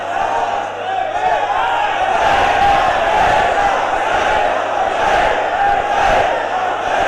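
A large crowd chanting the Labbaik slogan at a religious gathering, a loud, dense roar of many voices with rhythmic swells that sustains throughout.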